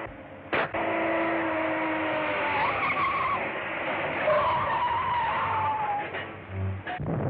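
Car chase in an old serial, a sustained high tire squeal and skidding over a rough engine roar, with a couple of sharp bangs at the start and the end.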